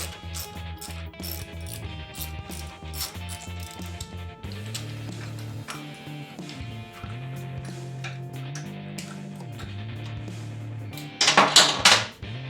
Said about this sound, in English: Grab your 10mm, undo that last bolt holding it on